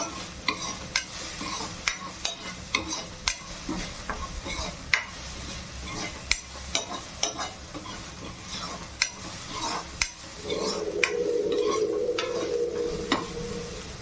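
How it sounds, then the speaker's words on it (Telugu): Paneer bhurji with capsicum and tomato is stirred in a pan, the spoon scraping and tapping in a steady rhythm over a constant sizzle of frying that grows louder and hisses near the end. "కలపండి బాగా అలాగా, నేను ఎలా కలుపుతున్నా అదే విధంగా."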